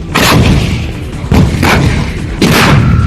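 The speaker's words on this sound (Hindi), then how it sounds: "इन वीडियो में अजरबैजान का तोपखाना दुश्मन के ठिकानों पर आग उगलता दिखाई दिया।" Artillery guns shelling enemy positions in a news report from Azerbaijan, heard as three loud, heavy booms spaced about a second apart, each followed by a rumbling roar with no voices over it.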